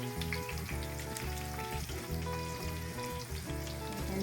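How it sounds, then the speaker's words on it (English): Parmesan chicken fries in olive oil with a constant close crackling sizzle, while faint rhythmic thumps and clinks run beneath it. "And these are frying right up."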